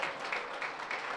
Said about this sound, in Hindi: आइए ताली बजाकर प्रभु को स्तुति आराधना करें।